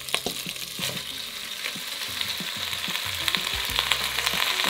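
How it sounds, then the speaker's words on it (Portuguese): Sausage sizzles in a pan with a continuous crackling fry, close and moderately loud, with occasional low knocks and clatters from the pan and utensil, no talk. "Bora fritar minha linguiça"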